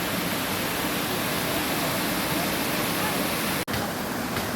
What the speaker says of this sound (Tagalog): finally nakarating kami ng uh, Hasaan Falls. Napakaganda rito.